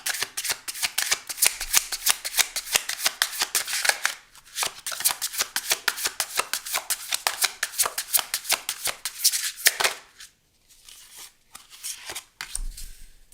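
Tarot cards are riffled and shuffled in rapid, crisp flutters, close and loud, with brief pauses and a few softer slides and taps as cards are drawn and laid down. No one speaks.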